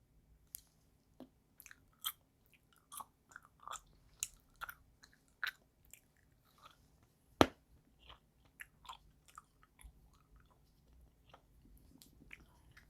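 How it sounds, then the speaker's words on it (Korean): Someone chews soft, lemon-flavored Atomy omega-3 capsules close to the microphone, giving quiet wet squishes and occasional crisp bites at irregular intervals against near silence. "그래서 그 맛을 알고부터는 저는 맨날 씹어 먹거든요"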